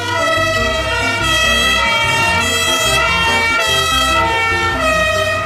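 A toy fire rescue truck blares its electronic siren, loud and close, a continuous buzzy wail cycling steadily without pause.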